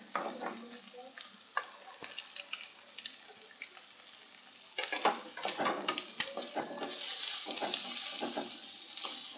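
Carrots stir-frying for vegetable fried rice, with a spatula scraping and clattering against the pan over a steady sizzle that swells louder toward the end; no voices.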